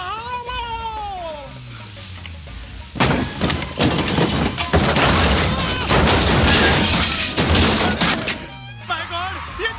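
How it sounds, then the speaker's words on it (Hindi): A thatched hut crashes down onto a car in a loud, crunching, shattering collapse that lasts several seconds, with shouting voices before and after the impact. "My God, ये झोपड़ा मेरे गाड़ी के ऊपर कैसे आ गया?"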